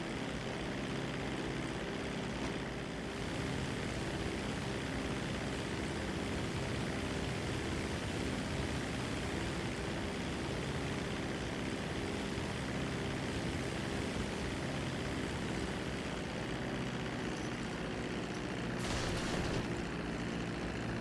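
Airplane engine in flight in Grand Theft Auto 5, a loud continuous roaring drone with steady wind-like noise throughout, nearly unchanging in level.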